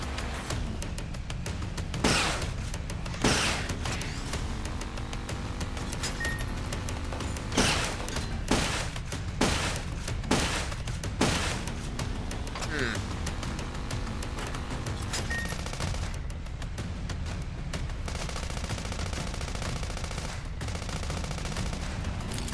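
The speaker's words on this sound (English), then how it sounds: "Shotgun." Shotgun blasts in the Sand Land video game. Sharp single shots ring out every second or so in irregular clusters over a steady low background, fairly quiet overall.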